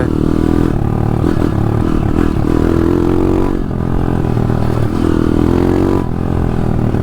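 A 150 RXF motorcycle is being ridden, with a loud, steady engine drone close to the rider. Wind rumble and slight rises and dips in pitch run under the engine throughout.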